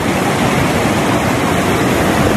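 A continuous, loud roar of rushing water from a waterfall on the Bagsit River in Palauig, Zambales, a dense, unbroken wash of noise with no voices.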